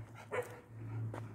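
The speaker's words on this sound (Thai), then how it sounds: "เห่าทำไมหนู" A dog barks at a forest temple in Khon Kaen, Thailand: one sharp bark near the start and another toward the end, close and fairly loud over a steady low hum.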